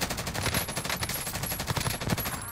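Rapid automatic gunfire rattles continuously in a video game shootout, loud, close and dense, with no pauses over the short burst.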